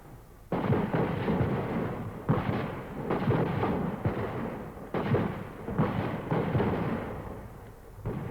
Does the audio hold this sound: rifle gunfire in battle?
yes